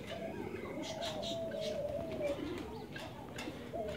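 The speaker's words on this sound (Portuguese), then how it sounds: "tô aqui pra mostrar pra vocês os filhotes das rolinhas diamante" Diamond doves with three-day-old chicks cooing softly nearby indoors, several drawn-out low coos and faint chirps over a quiet background.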